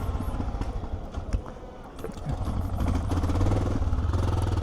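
A 2025 Honda XR650L single-cylinder motorcycle engine warming up, a low, steady, throbbing idle close by with light mechanical clatter, growing fuller and slightly louder toward the end.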